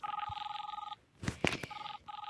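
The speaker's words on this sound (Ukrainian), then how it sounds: "хто мені дзвонить, не буду відповідати" A telephone rings inside the Roblox Brookhaven game, two bursts of an electronic bell-like trill separated by a short gap filled with brief clicks and clatter, fairly quiet and with no talking.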